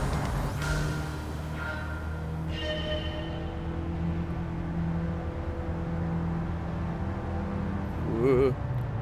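A car driven in Gran Turismo 7 with an automatic single-gear drive hums along smoothly and steadily, its engine tone holding a low, continuous whir throughout, with a person talking over it.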